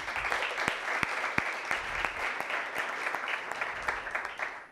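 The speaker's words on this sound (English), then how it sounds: "A big round of applause for Priscilla." Audience applause for a speaker at a tech product management talk, steady dense clapping sustained for nearly five seconds, fairly near and even, with a few sharper individual claps standing out.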